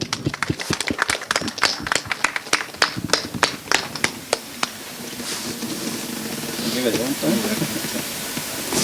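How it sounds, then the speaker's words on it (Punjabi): Sharp, uneven claps ring out close by for several seconds, then fade into a softer hiss and murmur of voices. "ਜ਼ੋਰਦਾਰ ਤਾੜੀਆਂ ਪਲੀਜ਼ ਇੱਕ ਵਾਰੀ"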